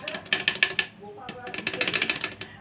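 A sewing machine with loose, slack parts runs noisily, giving rapid bursts of rattling mechanical clatter that pause briefly and start again, close and fairly loud, with a voice speaking over it.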